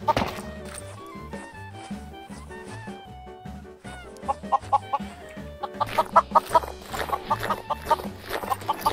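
Chickens cluck repeatedly in the Minecraft video game, layered over steady looping background music with a regular rhythm, with no talk heard.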